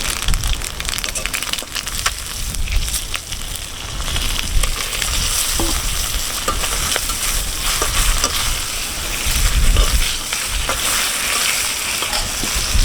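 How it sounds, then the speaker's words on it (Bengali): Whole spices crackle and sizzle as they hit hot oil for phoron, a steady, bright frying hiss with scattered pops and stirring scrapes, close and fairly loud, for a rustic-style parshe fish and spinach dish. "আমি দুটো জিনিস ফোড়ন দিচ্ছি"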